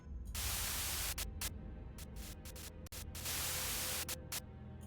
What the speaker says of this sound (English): A sudden buzz of white noise breaks through the truck silence.